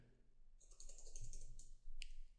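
Keys clatter on a computer keyboard as text is typed into a setup field, a quick run of soft clicks followed by a sharper tap near the end, with no talking.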